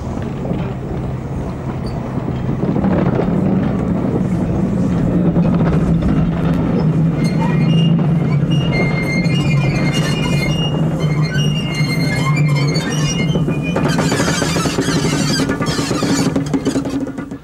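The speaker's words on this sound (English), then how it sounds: "the selfsame B-4 dock tank Normandy, which we saw at Winchester as 30096, returned to her old haunts with demonstration goods trains" The B4 class dock tank engine Normandy, numbered 30096, works a demonstration goods train, a continuous rumbling roar of the moving train with rattling wagons and clanking metal, steady and fairly close throughout.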